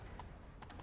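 Rhythmic hoofbeats of a horse clip-clopping along at a quick pace in The Witcher 3: Wild Hunt, fairly quiet, with no voices over them.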